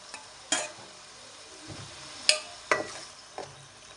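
Country chicken fries in oil with grated coconut in a pan, with a faint steady sizzle under a few sharp scraping stirs of a spoon against the pan, close by.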